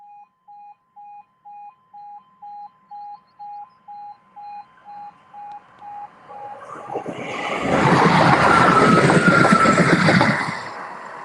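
An East Midlands Railway Class 158 train approaches after a run of regular warning beeps, then passes with a swelling broadband rumble and rush that peaks and starts to fade, with no talk.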